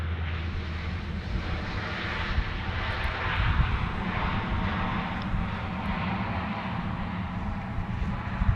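A heavy Qantas airliner bound for Santiago takes off from the main runway at Sydney Airport, its engines a steady, broad roar that holds loud and even throughout at a moderate distance.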